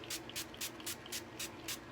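Seven quick, evenly spaced spritzes of makeup setting spray, a fine mist, soft and close, with quiet pauses between each pump.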